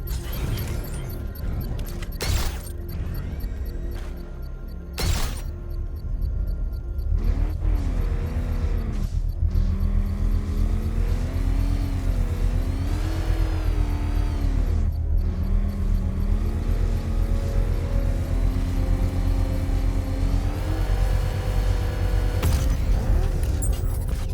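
Car engine in the video game Batman Arkham Knight, a steady droning motor that rises and falls in pitch as it drives, with a few sharp clanks and knocks over the top, loud and continuous throughout.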